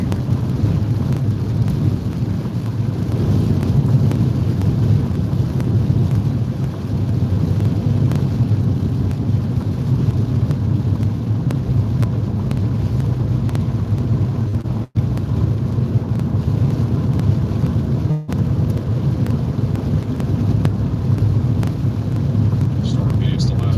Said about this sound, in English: Lightning storms are the best, so beautiful watching them. Unfortunately, this is not just a lightning storm, it's also tornadic.